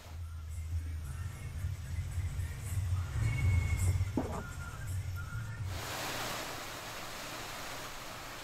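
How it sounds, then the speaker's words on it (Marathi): High surf driven by Cyclone Biparjoy crashes on the Mumbai shoreline, making a loud, continuous roar of churning water with a deep rumble underneath and a brighter wash surging in late. No voices. "मुंबईच्या समुद्र किनाऱ्यांवर उंचच उंच लाटा धडकताना दिसतायत"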